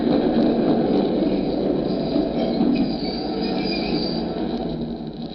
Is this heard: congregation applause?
no